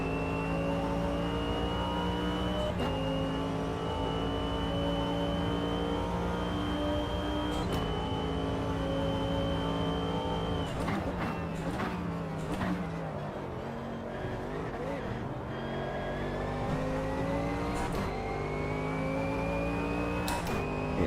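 A Mercedes-AMG race car in a sim racing game roars with a loud, steady engine note that rises and falls through gear changes, with a few abrupt shifts and a dip mid-run before climbing again, no voices over it.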